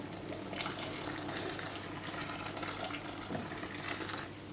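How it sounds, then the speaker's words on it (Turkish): Boiling water poured into a pot of yayla soup, a yogurt and wheat soup, giving a continuous close splashing, gushing flow at moderate level for a few seconds. "O yüzden ben biraz kaynar su ilave edeceğim."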